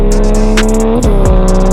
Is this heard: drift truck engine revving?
yes